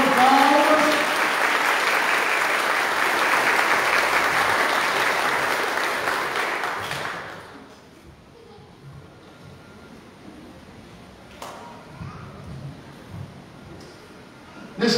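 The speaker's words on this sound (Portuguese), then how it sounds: "Uma salva de palmas." Congregation applauding during a Catholic Mass installing a parish priest in Minas Gerais, Brazil: a loud, full burst of clapping with a brief tone at the start, fading out around seven seconds into a quiet, reverberant church with faint scattered noises.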